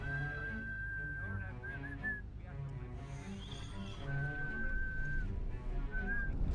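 A man whistles a thin, steady melody in a scene from the film Anomalisa, heard in two stretches over a bed of background music and ambience.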